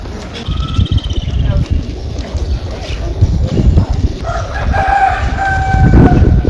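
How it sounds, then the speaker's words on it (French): Roosters crow at a distance amid chirping birds and outdoor bustle in Bamenda, Cameroon, with footsteps and people talking nearby over the background. "dont le bruit des pas se mêle au chant des coqs et au gazouillis des oiseaux"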